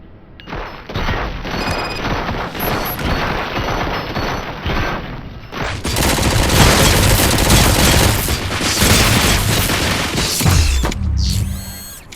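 Sustained rapid gunfire from RoboCop: Rogue City, with dense bursts of automatic shots and mechanical clatter that grow louder and heavier midway before cutting off near the end.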